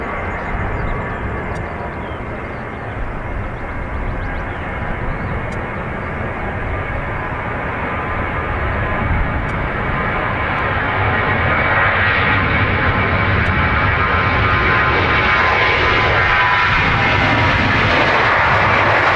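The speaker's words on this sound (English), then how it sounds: "Ryanair off to Luton." A Ryanair jet airliner departs Dublin Airport with a loud, continuous roar that builds steadily as it climbs away, heard up close with little else.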